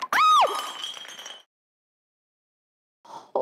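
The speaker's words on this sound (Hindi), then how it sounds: "ग्लास टूट गया" A drinking glass breaks in a kitchen with a sharp ringing crash, shards clinking for about a second before silence, then a faint clatter near the end.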